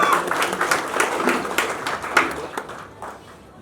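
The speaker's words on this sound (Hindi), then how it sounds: "जोरदार ताली से उनका स्वागत होना चाहिए।" Audience applause welcoming honorees at a social workers' award ceremony: dense, steady clapping from a crowd, fairly loud and close, tapering off toward the end.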